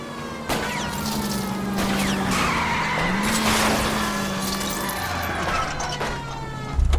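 A car's tires skid and squeal after being shot out in the video game LA Noire, a loud, sustained screech lasting several seconds over engine noise, ending in a low thump.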